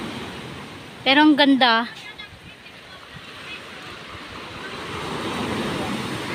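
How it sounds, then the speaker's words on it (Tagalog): Strong ocean waves at Dingalan, Aurora, make a steady broad roar of surf that swells toward the end, with a brief voice speaking near the start. "Ang lakas ng alon."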